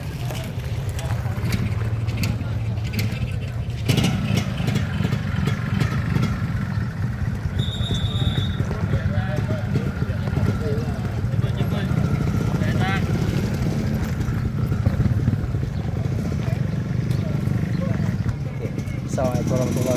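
A convoy of motorcycles rumbling past in a continuous, loud engine drone with shifting revs, layered over crowd chatter and people talking throughout.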